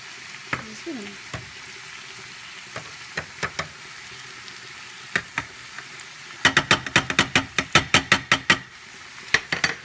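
Thai organic coconut milk goes into a curry in a pan, which sizzles and bubbles while a utensil scrapes and taps. A quick run of loud, rhythmic clacks comes near the end.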